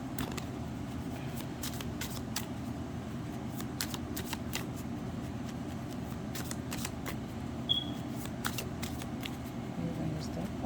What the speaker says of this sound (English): Let the cards flip or spit out.